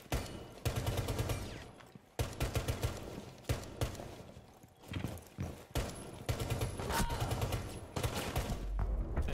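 Dense, continuous gunfire in a first-person shooter game, loud and steady with short gaps, mixed with other game sounds throughout.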